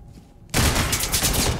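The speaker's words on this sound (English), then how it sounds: "I think he shot at me and may have hit you" Sudden burst of heavy gunfire in the tactical shooter Ready or Not, a dense sustained volley of rapid shots that cuts in loudly after a moment of quiet, with no talking.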